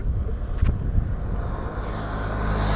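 A truck pulls out on a Thai street, its low engine rumble and road noise swelling steadily with a faint wind buffet, close by and without voices.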